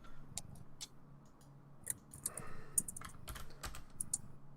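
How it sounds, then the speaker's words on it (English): Rapid, uneven clicking of computer keyboard keys being typed on, close and fairly quiet, with irregular bursts of keystrokes and no talking. "Are you typing, Richard?"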